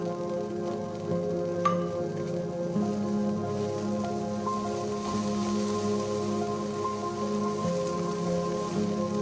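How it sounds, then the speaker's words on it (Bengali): Dried red chillies fry in oil for a Bangladeshi dry shrimp bhorta, making a constant, close crackling sizzle like rain on a surface that holds evenly without pauses. "আমার যে শুকনো মরিচগুলো ছিল এটা আমি আরেকটা তেলে দিয়েছি।"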